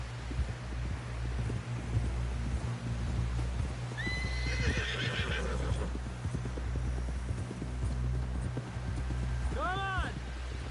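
A horse in Red Dead Redemption 2 whinnies loudly and close, with a second neigh near the end, over steady clip-clopping hooves, wind and a low rumbling bed.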